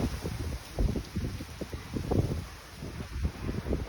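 Strong gusting wind during a cyclone on the Yalta seafront in snow, rumbling in low buffeting bursts against the microphone with a steady high hiss behind.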